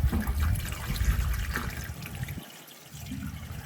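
Muddy water trickles through a home water filter in a continuous low burble and splash, holding steady before briefly dropping away and resuming.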